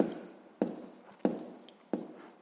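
Pen or chalk strokes while writing out a math solution. Four distinct scratchy taps land at a steady rhythm, each fading into a soft scrape, close and fairly quiet, with no talking.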